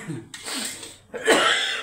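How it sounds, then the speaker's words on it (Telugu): A man coughs hard twice in a kitchen while upma is made with Bombay rava on the stove, the tempering spices sharp in the air; two close, rasping bursts with a short pause between them. "దగ్గు మాత్రం విపరీతంగా సార్"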